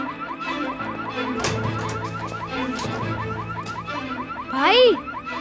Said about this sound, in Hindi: मुझे तो किसी गाड़ी का वार्निंग अलार्म लग रहा है